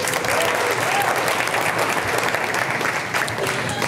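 A stand-up comedy audience breaks into a full, even round of applause, dense clapping from many hands sustained for about four seconds without a break.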